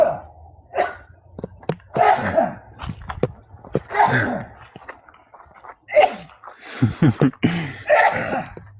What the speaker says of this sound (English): This is common for Dad to get a sneezing fit.